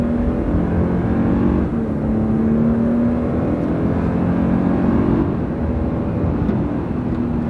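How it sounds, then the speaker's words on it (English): A new Toyota Tundra with a 389-horsepower twin-turbo engine accelerates on a straight road, heard from inside as a loud, steady low drone with a rising engine tone, with no talk. "The turbos are kicking in."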